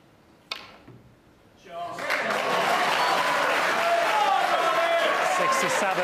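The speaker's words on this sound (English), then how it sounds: "act of sportsmanship there, clapping for Ronnie O'Sullivan" Arena crowd at the 2020 World Snooker Championship final breaks into applause for Ronnie O'Sullivan, starting after a quiet moment with a couple of knocks, then swelling into loud sustained clapping with a commentator's voice underneath.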